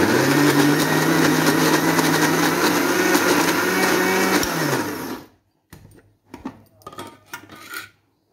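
A mixer grinder blends boiled elephant yam for vada with a loud, steady motor whir and churning rattle for about five seconds, then stops abruptly, leaving a few faint clinks and scraping handling noises.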